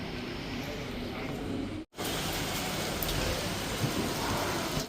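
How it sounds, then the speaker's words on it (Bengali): Heavy rain pours down outside a car service center after a sudden downpour, a dense, loud, steady hiss that drops out for a moment and then resumes just as strongly. "বাইরে তো বৃষ্টি পড়ছে হট করে বৃষ্টি শুরু হয়ে গেছে"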